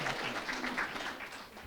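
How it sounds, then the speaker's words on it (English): Audience applause at a school board meeting, a brief, moderately quiet burst of scattered clapping that stays fairly even throughout. "So please give her a round of applause."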